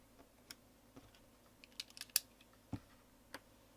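A scored plastic end piece snapped off a Kato N gauge model train lens: one sharp, quiet crack among a few faint, scattered clicks of plastic handling, heard close up with no talk.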